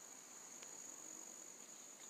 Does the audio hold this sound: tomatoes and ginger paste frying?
no